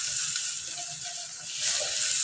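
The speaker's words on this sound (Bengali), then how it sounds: "এভাবে আমি সব চিংড়ি মাছগুলো ভেজে নেব।" Giant river prawns fry in hot mustard oil in a pan, giving a soft, steady sizzling hiss that swells slightly near the end, with no talk.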